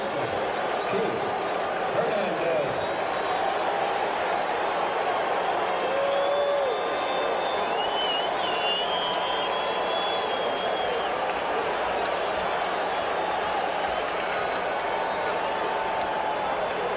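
Crowd noise at the 1986 World Series Game 2 between the Boston Red Sox and New York Mets, a steady roaring stadium murmur with scattered cheers and whistles, continuous and broad throughout.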